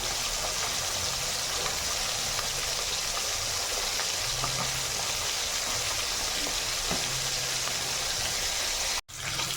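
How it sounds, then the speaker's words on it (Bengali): Fish fries in hot oil with a constant broadband hiss that stays even from start to finish, cutting out for a moment near the end. "দেখতেই পাচ্ছেন আমার মাছ ভাজা হয়ে এসছে।"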